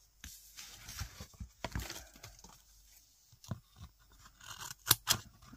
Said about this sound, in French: On peut couper le scotch à moquette sans galérer 2h30 à sortir notre ciseau.